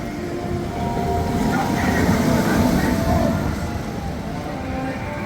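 The Stardust Racers roller coaster at Epic Universe runs a test ride, a steady rolling rumble of cars on track that swells and eases, heard from nearby under crowd murmur.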